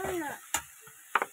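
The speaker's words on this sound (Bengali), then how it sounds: "তো এটা আগে একটু ভাজা ভাজা হোক" Vegetables fry in a hot pan with a soft sizzle, while a spoon or spatula gives two or three sharp scraping stirs against the metal.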